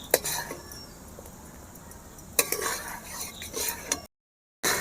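A spatula scrapes and knocks against a pot while thick homemade tomato sauce is stirred, giving intermittent clinks and scraping strokes over faint background hiss, with a brief silent gap near the end.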